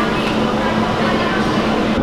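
A subway train in Santo Domingo rumbles and hums steadily with a sustained tonal whine, running loud and close without pause.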